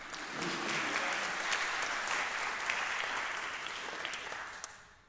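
Audience applause at a fraternity and sorority life awards ceremony, a sustained wash of clapping from many hands that swells quickly, holds steady for several seconds, then fades out.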